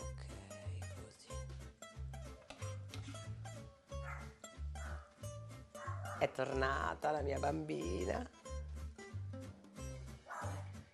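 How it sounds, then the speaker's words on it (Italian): A dog barks repeatedly outdoors, heard through a kitchen while a sauce cooks in a pan, with a person talking over the barking and steady rhythmic thumps underneath. "E sente il cane di fuori"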